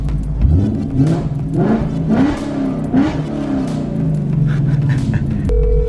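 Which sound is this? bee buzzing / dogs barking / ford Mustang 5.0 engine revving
ford Mustang 5.0 engine revving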